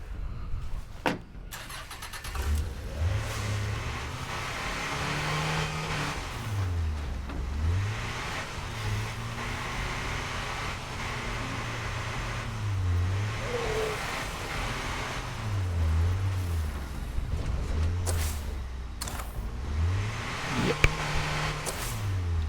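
A car drives in the video game State of Decay 2, its engine revving up and down in repeated cycles over a constant rumble, moderately loud and steady, with no talk.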